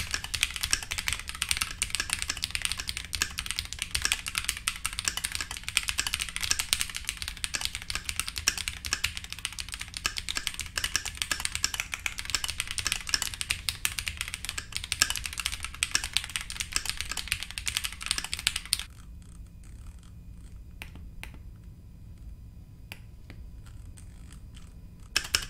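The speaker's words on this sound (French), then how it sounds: "Vous avez entendu le son du clavier" Rapid typing on a transparent KiiBOOM Phantom 81 mechanical keyboard, a dense, steady stream of crisp clicky keystrokes close to the microphone that stops abruptly near the end, leaving quiet room tone with a few faint taps.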